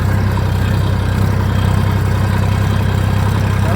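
A tractor engine runs steadily while ploughing a field, a loud, close, continuous low diesel drone with no talk over it.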